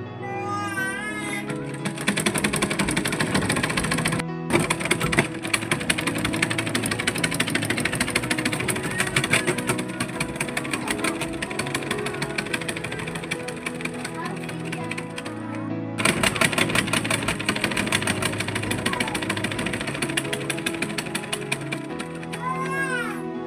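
Sewing machine stitching a cutwork design, a loud continuous rapid mechanical whirr and clatter running for long stretches with brief pauses between bursts.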